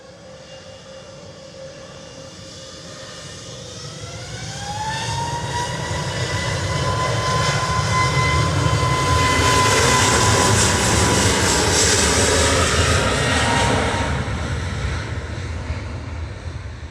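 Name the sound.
EasyJet airliner jet engines on the runway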